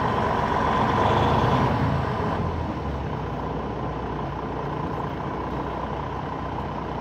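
A heavy truck engine rumbles steadily up close, its tone easing slightly after a couple of seconds as it rolls slowly forward onto a weigh scale.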